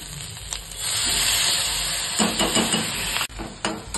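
Water poured into a hot pan of frying grated ginger and spices sets off a loud, close steaming hiss that surges and holds, then breaks into softer crackling sizzles and a few clinks of stirring.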